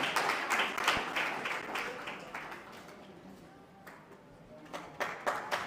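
Conference audience applauding in a hall, a dense burst of clapping that fades midway and then swells again toward the end, with no talk over it.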